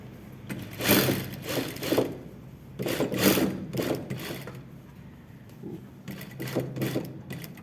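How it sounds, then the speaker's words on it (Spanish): A sewing machine runs a long seam on a box-pleated skirt in bursts, whirring up and pausing several times at close range, alone with no voices. "Paso una costura larga hasta el tope de lo que voy a trabajar"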